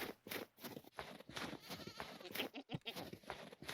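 Several goats bleat in a video game, with repeated wavering calls in quick succession, fairly close and clear.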